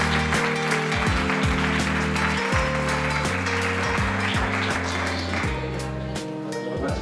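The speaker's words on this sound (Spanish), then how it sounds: "aplausos a Rafa, cibercapital." Applause from a conference audience at SecAdmin 2025 rattles on throughout, mixed with loud music playing at the same time.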